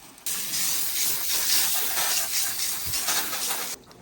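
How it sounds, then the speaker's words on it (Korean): A steady hissing spray of water onto a car engine bay runs for several seconds, starting and stopping abruptly, close and fairly loud, outdoors in cold weather. "시원하게 물 뿌려줍니다"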